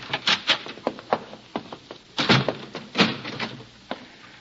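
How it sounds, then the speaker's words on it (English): A wooden door being bolted shut in an old radio drama, a close series of uneven knocks, rattles and clacks with a couple of louder thumps. "I'll bolt the door after you."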